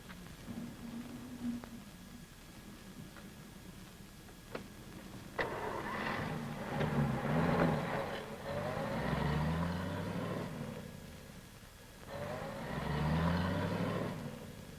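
Cars in a 1938 western film starting up and driving away outdoors: after a quiet, hissy lull, engines crank and catch, then swelling mid-distance revving and motoring in several waves that fade between them.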